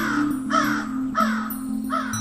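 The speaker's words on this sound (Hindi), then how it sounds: "कौवा दाना खाकर चंदर दादाजी के कंधे पर उछलने लगा और उनके बगल में बैठ गया।" A crow caws three times at a steady, evenly spaced rhythm, close and clear over a quiet background hum.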